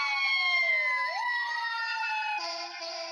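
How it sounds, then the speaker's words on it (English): Ambulance siren wailing close by on a city street in Los Angeles' Skid Row area, with steady rising and falling tones that hold loud for the whole stretch, layered over traffic noise. "this is my ambulance coming"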